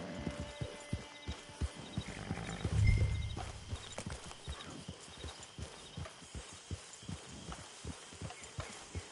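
Steady clip-clop of horse hooves at a walking pace in the video game Red Dead Online, repeated evenly throughout, with a brief louder rumble early on.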